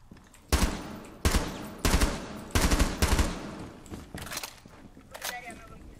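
Bursts of gunfire from a weapon in the tactical shooter Rainbow Six Siege: about seven sharp automatic volleys at steady intervals, loud and close, tapering into fainter shots toward the end with no talk over them.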